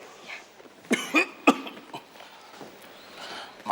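Someone coughs indoors, three sharp close coughs in quick succession followed by a softer throat sound, with quiet room noise between.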